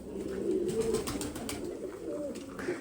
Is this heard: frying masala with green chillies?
no